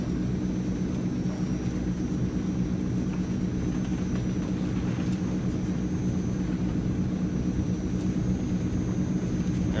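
The turboprop engines of a Transall C-160 military transport drone steadily on the takeoff roll in Microsoft Flight Simulator, a loud, constant low roar with a faint high whine running throughout and no speech.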